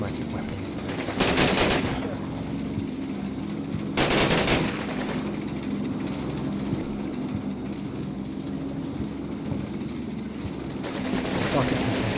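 Sten guns and other automatic weapons fire in the World War II game Combat Mission, with bursts of rattling gunfire around two moments, a later one near the end, and a constant low rumble between bursts.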